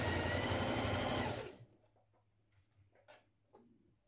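A sewing machine runs loud and steady as it stitches a dress seam a few millimetres from the edge, then stops after about a second and a half, leaving faint handling clicks and rustles.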